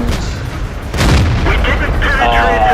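Tank cannon shot in World of Tanks, a loud boom with a rumbling tail under ongoing game sound and talk.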